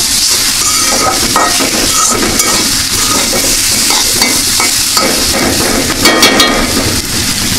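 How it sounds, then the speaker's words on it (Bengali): Pieces of rui fish fry loudly in hot oil, with a dense, continuous sizzle and crackle broken by occasional stirring scrapes, close and steady throughout. "এপাশে মাছ ভাজি উল্টিয়ে দিয়েছি।"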